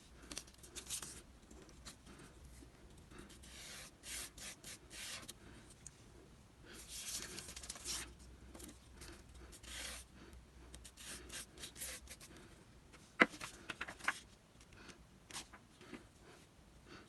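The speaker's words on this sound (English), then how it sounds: "Then you want to take some more Mod Podge and go over it." A brush working Mod Podge over paper strips, giving quiet close rubbing and scratchy strokes that come in uneven bursts, with a soft voice now and then and one sharp tap near the end.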